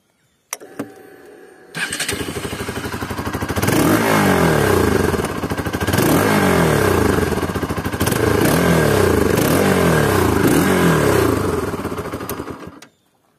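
An RS200 motorcycle engine starts and runs loud and close on Uttarakhand hill roads, revving in repeated rising surges as the bike rides, then cuts off abruptly.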